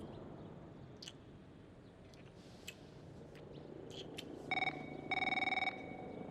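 A phone rings in House of Ashes, two bursts of a bright electronic ring over quiet game ambience with small clicks and movement sounds.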